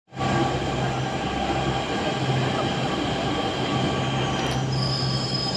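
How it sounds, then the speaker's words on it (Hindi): A Delhi Metro train pulls into Supreme Court station, with a steady loud rumble and faint wheel squeal that hold throughout, heard close on the platform. "हम पहुँच गए metro station supreme court. Metro आ चुकी है"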